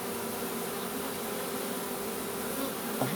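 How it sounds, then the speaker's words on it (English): A dense honeybee swarm drones around a hive in early July, a thick continuous buzzing that fills the air close by and stays steady throughout without any talking. "I've got a huge number of bees on the back of me"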